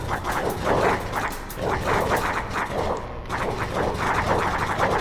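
Sloggies, dog-like creatures in the video game Oddworld: Abe's Exoddus, bark in rapid, continuous volleys of loud yapping that repeat steadily throughout.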